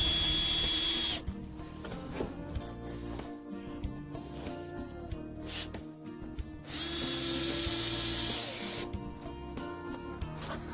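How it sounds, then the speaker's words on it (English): Power drill driving screws into the top board of a wooden vegetable planter, with two loud sustained whirring runs broken by quieter clicks and handling noise, close up and without speech. "the last 2 screws go into this top board at this end"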